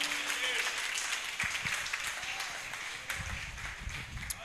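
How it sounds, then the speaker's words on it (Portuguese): A church congregation claps in praise, a soft wash of applause with a few sharper claps, while voices murmur and call out underneath. "Louve a Deus com a salva de palmas"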